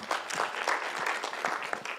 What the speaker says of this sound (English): So we really, really appreciate maybe a round of applause.